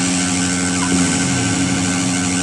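A steady, loud engine drone with a constant hum fills the whole stretch, an airplane engine in the video game PK XD running without pause.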